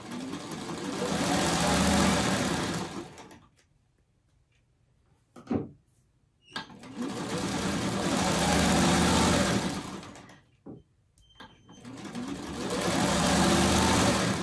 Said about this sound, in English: I'm going to run those through the machine. sewing from corner to corner.